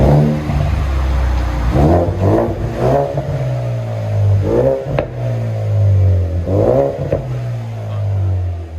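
A 2021 Ford Mustang EcoBoost with a Magnaflow Magnapack exhaust, mid-pipes and rear delete, revs hard close by in repeated rising bursts, its loud throaty engine note climbing and falling several times with no talk over it.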